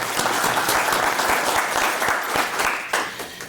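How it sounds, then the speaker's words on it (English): A lecture audience claps continuously with full, dense applause that tapers slightly toward the end. "Big round of applause for Fred Smithers."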